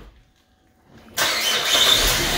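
Car engine, just repaired after refusing to start once refuelled, is quiet briefly, then fires with a sudden catch and settles into a steady, close idle with no talking over it.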